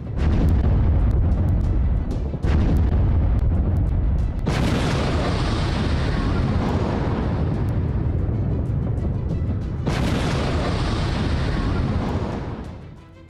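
Explosions from a large Ukrainian drone attack on western Russia, heavy booming blasts with deep rumbling roar, one sharp burst early and two powerful surges of sustained explosive noise, loud and without speech.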